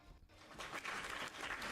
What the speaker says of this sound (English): Give them a round of applause for the rose.